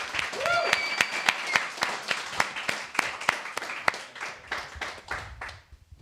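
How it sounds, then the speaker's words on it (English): Audience at a one-day event applauding, a mix of sharp individual hand claps and scattered clapping that starts lively, stays fairly close and gradually thins out toward the end, with some voices underneath. "Everyone give Rod a hand of applause for"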